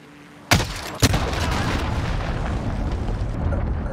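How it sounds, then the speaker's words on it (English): A cruise missile explosion in Call of Duty Modern Warfare, two sharp booming blasts in quick succession followed by a heavy rumbling roar that keeps rolling, loud and close. "Enemy cruise missile incoming!"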